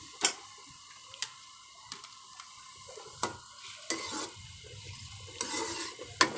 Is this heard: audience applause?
no